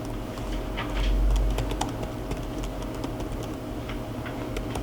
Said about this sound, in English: So if I want to insert text, I just type